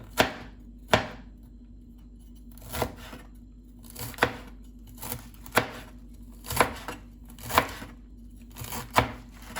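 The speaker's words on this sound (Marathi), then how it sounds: "आता ही तरकारी हांवें धुयले हांवें आनी आतां हे भाशेन आतां तरकारी कातर." Spinach for a Goan bhaji is chopped with a knife on a board: about a dozen crisp, close chops at a steady, unhurried rhythm, each a sharp tap over a faint background hum.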